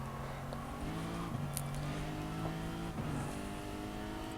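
Race car engine in the racing game Gran Turismo Sport, a steady mid-volume drone that rises and falls slightly through gear changes, with another car close behind.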